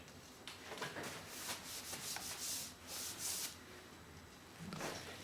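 A cloth wipes excess stain off a Mosin Nagant rifle stock in a garage, with quiet, close, intermittent rubbing strokes in short bursts.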